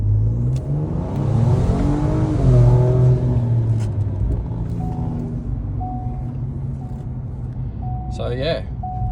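A Ford Ranger Raptor engine revs up, then is held at a steady launch-control RPM, a loud deep drone with a brief blip near the end, heard close.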